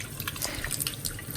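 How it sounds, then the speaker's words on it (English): A new Pfister kitchen faucet runs water into a sink, giving a steady splashing and dripping patter at close range with no voices. "The water running, and I don't see any leaks so far."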